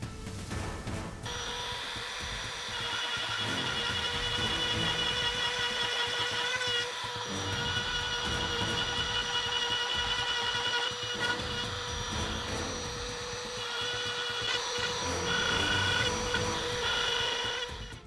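A homemade CNC metal lathe machines counterbores for side screws in a metal tailstock part, a continuous loud mechanical whine with steady tonal ringing throughout, no talking.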